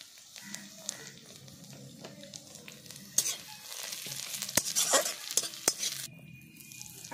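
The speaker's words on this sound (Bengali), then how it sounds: "তেলেতে একটু লঙ্কা গুঁড়ো দিয়ে দিচ্ছি সামান্য" Onions and a pinch of chili powder sizzle in oil over a clay stove for a fish kalia, a fairly quiet hiss that swells midway, with scattered sharp clicks and clacks of a spoon on the pan.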